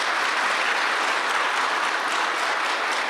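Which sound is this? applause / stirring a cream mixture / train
applause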